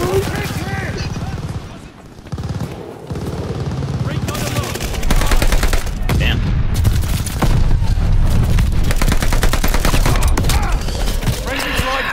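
Gunfire in Call of Duty: Vanguard: rapid machine-gun bursts and shots crackle almost continuously, with occasional booms, growing denser and louder after a brief lull.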